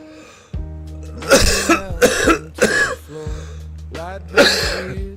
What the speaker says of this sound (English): I have to cough afterwards.